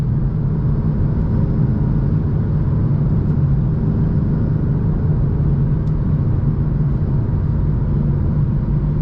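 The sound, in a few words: tuned 600HP stage 2 BMW F82 M4 engine while driving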